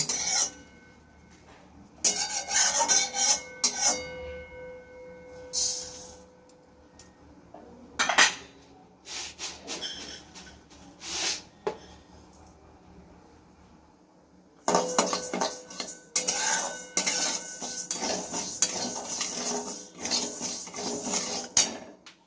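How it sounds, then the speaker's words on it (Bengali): Moong dal roasting in a pan while being stirred, giving dry scraping and rattling in uneven bursts, busy at the start, quieter in the middle, then steady again toward the end. "মুগ ডাল ভেজে নেব।"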